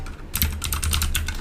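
Rapid keystrokes on a computer keyboard as a terminal command is typed, a quick run of close, distinct clicks after a brief pause, with no talking.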